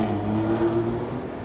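An Aston Martin DB9 V12 engine revs in town, a brief, loud, smooth mechanical drone with a rising tonal whine that holds steady for about a second and a half.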